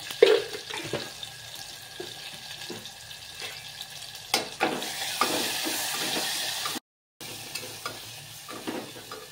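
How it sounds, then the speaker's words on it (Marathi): Tempering of spices sizzling in a hot pan while cooking moong dal varan-phala, a continuous hissing fry with stirring and scraping, close and moderately loud, broken briefly by a short gap. "मी डायरेक्ट फोडणी देत आहे"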